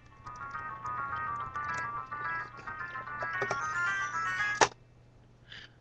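A small sound recorder tucked inside a homemade Zelda treasure chest plays the chest-opening jingle, a tinny rising run of chime-like notes that builds up and ends in a bright flourish, fairly faint and heard alone.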